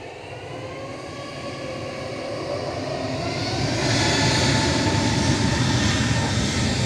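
An EasyJet Airbus A320neo jet airliner at Manchester Airport, its engines producing a broad steady roar that slowly swells louder over several seconds, heard from a distance without voices.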